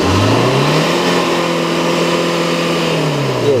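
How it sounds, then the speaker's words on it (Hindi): A diesel car fitted with a flame thrower exhaust kit revs hard and loudly: the engine note climbs, holds steady at high revs and then falls back, with no one speaking. "अभी रेस करके देखते हैं हम"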